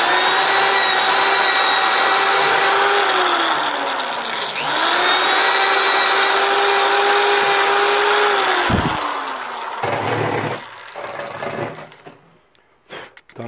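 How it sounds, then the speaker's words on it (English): A power drill boring holes through wooden boards for an antler mold, with a loud steady motor whine that sags under load and recovers, then winds down into a few short bursts and clunks. "a second pair are drilled through for the front of the center plate"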